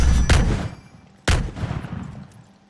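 Two loud, close gunshots from the Pirates VS Ninjas video game, about a second apart. Each blast is followed by a rumbling echo that fades away.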